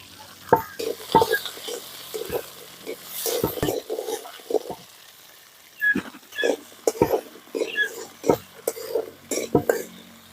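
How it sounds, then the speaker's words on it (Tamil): Small shallots frying in oil for a village-style goat curry, a steady sizzle broken by repeated scraping and stirring strokes from a ladle, loud and close with no talking. "இப்படி நல்லா சிவக்க வறுத்துக்கணும்"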